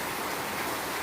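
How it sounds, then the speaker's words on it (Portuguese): Rain falls outdoors as a dense, even hiss of drops, steady and moderately loud throughout, with no voices. "Quando eu tava saindo, começou a chuva."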